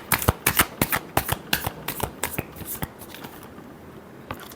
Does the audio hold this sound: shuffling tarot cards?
yes